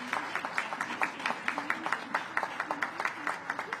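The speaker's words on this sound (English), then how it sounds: "please join me in a round of applause for all the efforts of these volunteers" Light, scattered clapping from a small audience at an art exhibit opening for Hispanic Heritage Month, honoring volunteers; individual claps stay distinct and fairly quiet, with a faint low murmur beneath.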